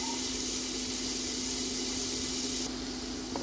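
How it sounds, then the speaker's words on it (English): Onion sizzles in a pan of butter and olive oil, a steady loud hiss that runs unbroken throughout, with a faint tone underneath and a slight drop in intensity near the end, and nobody speaking. "Let's fry our onion."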